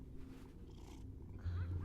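A cat named Iris purrs softly while being petted in Life is Strange: Double Exposure, a low rumbling purr that grows fuller and closer near the end.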